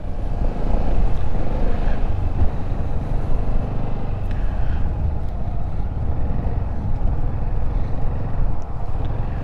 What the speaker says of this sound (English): just with this wind, it's just really bad